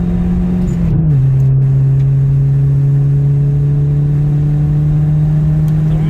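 A Peugeot 406 engine runs loud and close on a track, its pitch dipping briefly as the gear changes before settling into a steady, sustained drone under throttle.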